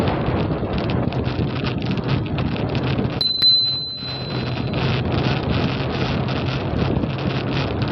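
A bicycle bell rings once, a bright sharp ding that lingers briefly midway through a ride, set against constant wind rumble buffeting the microphone.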